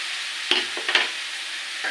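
Whole spices tempering in hot oil for a banana and fish curry, a soft steady sizzle with a couple of sharp clinks of a spoon against the pan, heard alone without talk.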